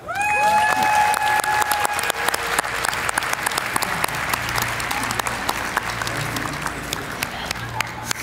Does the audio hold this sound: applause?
yes